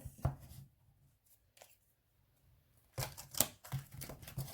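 Tarot cards being shuffled by hand in a quiet room, with soft riffling and slapping bursts at the start and a denser run of card rustles and taps near the end, faint overall.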